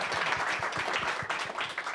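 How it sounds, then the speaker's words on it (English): An audience gives a short round of applause, dense overlapping claps at moderate volume. "Round of applause for Amy."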